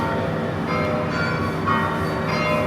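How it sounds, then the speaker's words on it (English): Church bells ring out in Dubrovnik's old town, a steady, sustained peal that fills the narrow side streets at moderate volume with no talk over it. "here go the bells"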